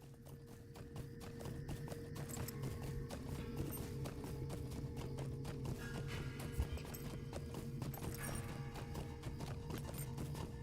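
Horse hooves clip-clop in a steady, continuous galloping rhythm while riding in the video game LOTRO, with a constant tonal game hum underneath and no talk.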